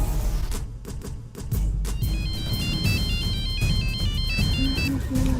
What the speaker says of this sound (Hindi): जेम्स, तू अपने को गलत टाइम पे फोन करता है।